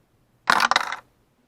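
Dice rolled onto a hard surface for a random pick: a single loud clattering burst of rapid tumbling clicks lasting about half a second, then quiet.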